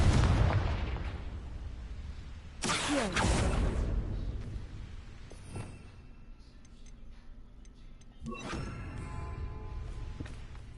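An explosion spell bursts with a sharp, loud blast and a rumbling tail in a video game, followed by quieter scattered ticks and a second softer burst later.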